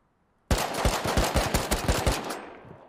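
Gunfire in the survival game Rust, a sudden close burst of about a dozen rapid shots in quick rhythm, trailing off into a short fading echo, with no talk.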